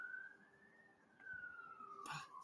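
A siren wails faintly in the distance, with one slow rising and falling sweep heard over a quiet background.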